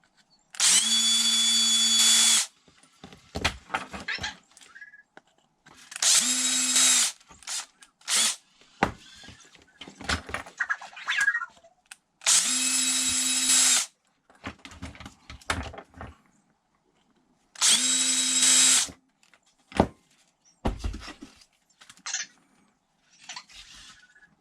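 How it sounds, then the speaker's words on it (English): A power drill drilling out a bent pin on an Arrma Mojave 6S BLX RC truck: four loud, close bursts of whining motor, each a couple of seconds long, separated by clicks, rattles and handling noises. "Take my drill bit, which is basically the same size of the pen."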